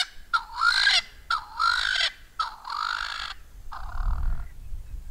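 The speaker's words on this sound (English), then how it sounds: "what he was doing is a calling, and I suspect that is a territorial call" A Swainson's spurfowl gives a territorial call on safari, a series of loud, harsh, honking crows repeated about four times in quick succession, fairly near, with no talk.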